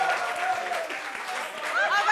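A small audience at a French singles meetup applauds a single woman, broadband clapping steady for about two seconds, with voices and cheering tones rising over it.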